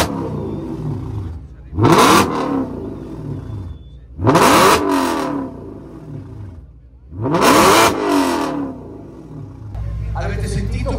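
An Audi S4 fitted with a loud aftermarket exhaust fires up and revs in three deep, roaring bursts that fall back to a rumbling idle between them, close and powerful.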